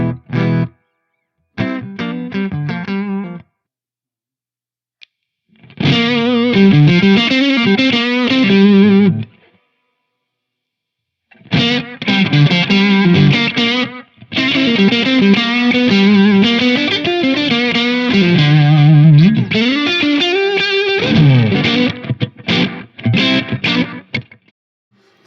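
Electric guitar driven through a Saucy Box Overdrive into a Way Huge Echo-Puss analog delay, loud distorted phrases and chords broken by silent gaps, with repeating echo tails trailing notes, played alone without talk.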